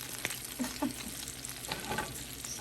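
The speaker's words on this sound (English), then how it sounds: "We're going to add the butter now. Here's the butter. Just gonna have that melt." Butter melting in a saucepan on medium heat for creamy garlic shrimp, giving a soft steady sizzle with a few small scrapes and stirring clicks, close and alone.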